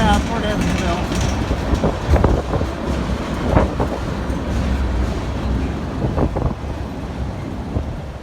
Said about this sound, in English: Hard to believe how quiet these heavy trains are on this welded rail.